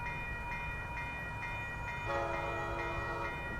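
Amtrak Capitol Corridor train 528, led by a cab car, passes on 98th Avenue in Oakland with a steady loud rumble, and its horn sounds clearly, with rich tones entering partway through.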